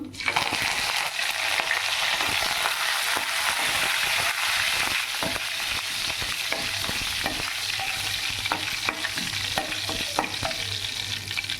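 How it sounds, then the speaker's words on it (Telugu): Cumin seeds, a dry red chilli and a sprig of curry leaves fry in hot oil as a tempering for chicken rasam. A steady, close sizzle with scattered crackles and stirring runs throughout, with no talk. "ఫ్రై చేసుకొని దీన్ని రసంలో పోసేసుకున్నాం."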